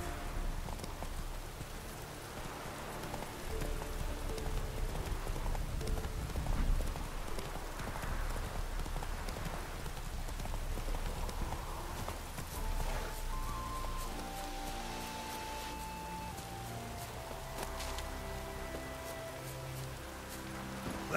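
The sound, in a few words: horse Roach hooves in The Witcher 3 video game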